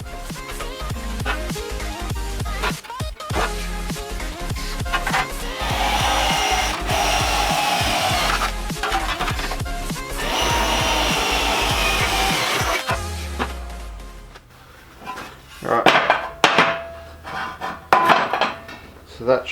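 Power drill boring holes in each side of a pivoting steering wheel mount, two long close whirring runs, followed by scattered clunks and knocks as the drilling stops, no speech.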